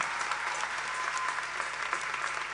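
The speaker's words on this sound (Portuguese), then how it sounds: "Uma salva de palmas para a Tunandão." An audience at the 15th Citadão student tuna festival applauds the Tunandão, sustained many-handed clapping at moderate volume with no voices over it.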